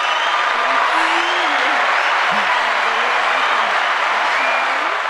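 A recorded applause sound effect plays continuously through a podcast as steady, dense clapping, with a voice talking over it throughout.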